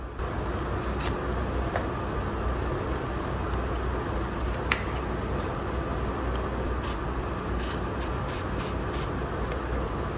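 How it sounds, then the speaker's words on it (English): A steady, continuous hiss of a cheap aerosol spray can painting heavy-duty shelf parts black runs throughout, close by, with a few faint clicks and taps. "Now we're gonna spray paint them black again."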